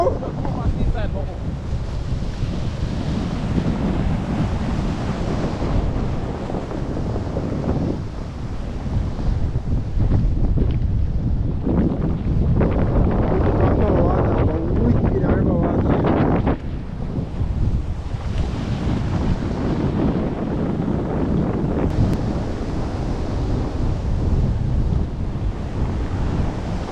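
Tropical storm wind roars steadily across the microphone on the Jamaican coast as waves crash and surge, loud and close throughout.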